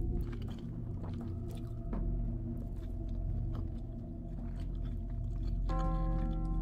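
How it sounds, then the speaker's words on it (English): Squishy, wet chewing from a character in the horror video game Fears to Fathom, steady and close over a low ambient rumble, with a brighter tonal hum joining near the end; no one talks. "Bro's still chewing like he owns a place."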